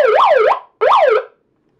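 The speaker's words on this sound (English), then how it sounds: "it also has like a police alarm" Handheld device blasting a police-style siren alarm: two loud, close bursts of rising-and-falling warble, each about half a second, separated by a brief gap, then silence.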